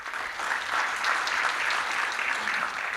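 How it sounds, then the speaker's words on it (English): A forum audience applauds the panelists at an Africa–Asia youth forum, giving steady, dense clapping from a full room that continues without pause. "please, a round of applause for the panelists"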